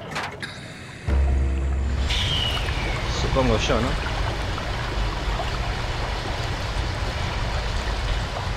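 Water rushes out in a steady, loud, broadband wash while being drained in the sci-fi horror game SOMA; it starts abruptly and continues unbroken, with someone talking briefly over it.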